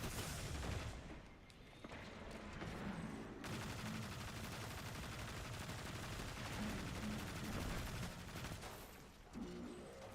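Dense, sustained gunfire from snipers and other weapons in the video game Destiny 2, a loud, continuous barrage of rapid shots and booms running for ten seconds with no talk over it.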